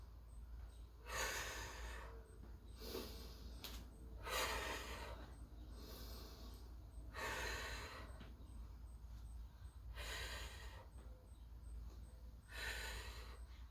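Heavy, audible breathing during a beginner core exercise with leg raises, slow repeated inhales and exhales in a steady cycle roughly every three seconds, close and fairly quiet with no talk.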